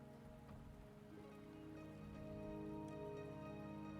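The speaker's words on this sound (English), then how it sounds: "The rain is subsiding, and the sky will soon clear" Steady rain falls in the Wuthering Waves game world, a dense, continuous patter under a low tonal background hum, holding level and slightly building through the clip with no voices.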